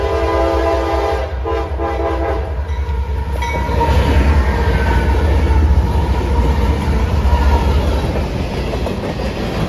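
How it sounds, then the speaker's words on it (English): Heritage locomotive L729, a 1967 unit at the Florida Railroad Museum, rushes past at speed, a horn blast at the start giving way to a loud, sustained roar and clattering wheels as the train sweeps close by. "Like I said, this train is going much faster"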